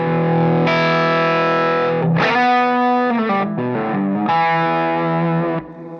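A heavily distorted electric guitar through a TC Electronic distortion pedal and Jackson Ampworks Britain 4.0 amp plays sustained, smooth notes and a few quick runs, loud and upfront with no other instruments.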